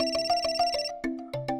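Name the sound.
phone ringtone ringing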